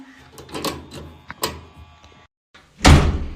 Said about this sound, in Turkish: Ay bu kapıyı açmazsam gitmez şimdi.